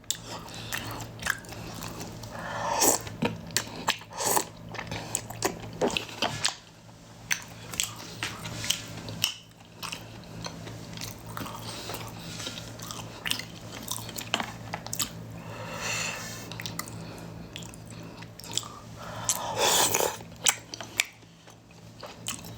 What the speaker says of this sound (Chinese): 你怎么总在吃？